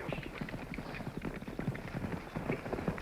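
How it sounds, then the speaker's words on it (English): Horses approach with a loose, uneven clip-clop of hooves, fairly faint and somewhat distant, in an old Western setting. "Horses are coming."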